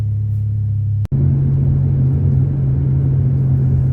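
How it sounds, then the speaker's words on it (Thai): A car being driven, heard from inside as a steady low engine hum and road rumble, with one brief sharp click about a second in and no talking. "ตอนนี้ก็กำลังขี่รถไปดูร้านนะครับ"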